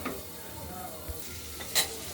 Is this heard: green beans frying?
yes